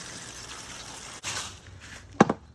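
Water sprinkles out of septic system distribution lines as a steady, faint hiss and trickle, broken by a brief splash near the end.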